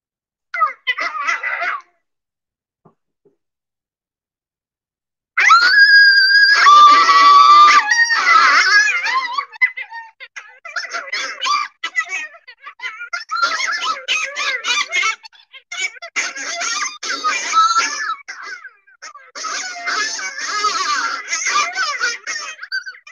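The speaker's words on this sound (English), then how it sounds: "think about how many coyotes you might actually hear howling here" Coyotes in Maine howling and yipping in a wild chorus, a brief cry first, then after a pause a loud burst of overlapping high wavering howls and yips that keeps going in waves.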